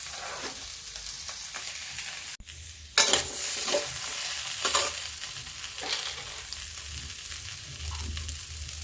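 A mixture sizzles and is stirred while roasting in a pan over a high flame for chaat, a loud continuous frying hiss with scraping strokes and a sudden jolt partway through, close and without talk.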